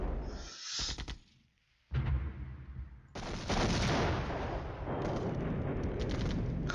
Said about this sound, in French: Ah, son artillerie fait un massacre.